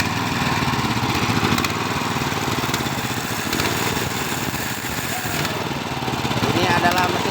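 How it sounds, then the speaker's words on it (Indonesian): A winch hoist engine runs during concrete pouring for the second floor of a mosque, a steady chugging small motor droning continuously at close range with a rapid regular beat. "Ini adalah mesin dereknya."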